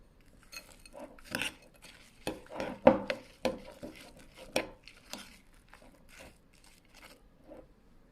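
Utensil mixing dessert cream ingredients in a bowl for sweet verrines, a series of sharp clinks and scrapes against the bowl in an irregular rhythm, close and fairly quiet.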